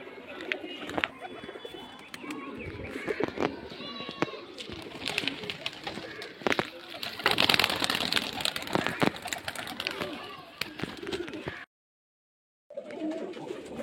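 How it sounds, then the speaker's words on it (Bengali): Giribaz pigeons in Murshidabad coo and call near and far over a busy outdoor background with scattered clatter, and some voices murmur; the sound cuts out briefly near the end before returning. "এই যে সে কালো পায়রাটা।"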